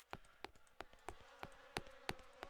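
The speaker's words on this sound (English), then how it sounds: "it's the little buzzing thing from the piles of, you know, of organs" Flies buzz over piles of entrails in the game Haven and Hearth, sounding as a quick run of short, faint insect buzzes in an irregular rhythm, with no voices.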